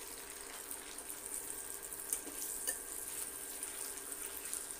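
Egg and chili frying in oil with turmeric, giving a steady soft sizzle throughout with a couple of brief crackling pops, fairly quiet and close.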